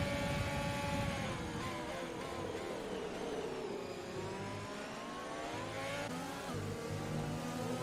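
Race car engines rev and accelerate in a sim-racing esports league event at the Brazil circuit: a continuous engine whine rises and falls in pitch through gear changes, with several cars overlapping and no voices.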